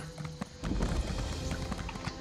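A horse gallops in the video game The Elder Scrolls Online, rapid rhythmic hoof clip-clops that grow louder after a brief lighter opening and continue steadily.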